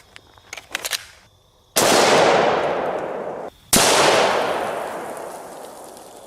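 An AR-15 rifle fires green tip 5.56 rounds at an Atlas stone: two loud, sharp shots a couple of seconds apart, each followed by a long decaying echo, after a few lighter clicks and knocks.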